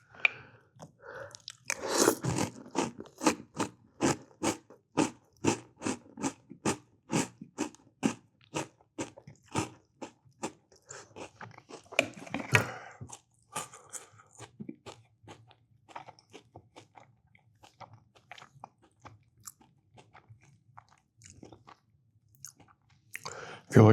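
Crunchy breakfast cereal with milk is chewed close to the mic in a steady rhythm of loud crisp bites and crunches, with a little talk in between.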